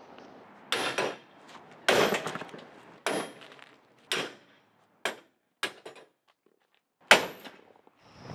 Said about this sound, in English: Now we'll use the sledgehammer.